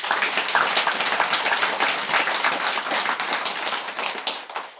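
An audience at a Buddhist monk's dharma talk breaks into sustained applause: dense, steady clapping from many hands that stays loud for several seconds before starting to thin toward the end.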